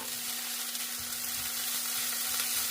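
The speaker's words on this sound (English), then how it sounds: "So I'm just going to move that around and saute for about somewhere between 3 to 5 minutes." Diced potatoes sauté in a hot pan with a steady, close sizzle and occasional soft stirring, and a faint constant hum underneath.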